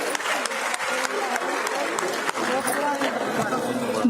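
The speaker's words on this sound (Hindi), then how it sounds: "जोरदार तालियां हमारी बहन के लिए।" A crowd at a women's conference in Haryana breaks into loud, sustained applause as someone speaker is called to the stage, dense clapping with some chatter mixed in and no break.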